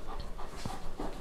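A Bernese Mountain Dog pants close by in quick, soft breaths, alone with no talking.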